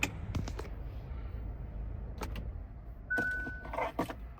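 A 2024 Hyundai Kona SEL shutting off: a low idle rumble runs under a few sharp button clicks, then a brief steady warning chime with soft interior clunks near the end, all close and moderately quiet.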